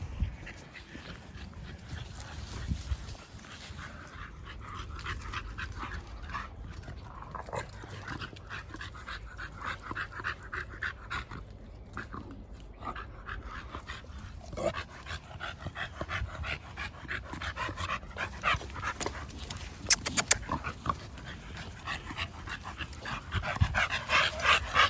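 An American Bully dog pants and whimpers close by, with quick rhythmic breaths broken by soft high whines and small yips over roughly twenty-five seconds, alone with no talking.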